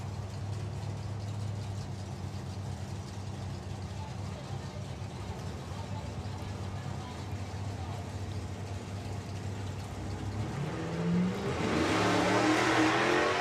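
A Fox Body Mustang and a Barracuda idle at the drag strip line with a low engine burble, then launch into a loud, rising roar near the end, while a commentator talks over the scene.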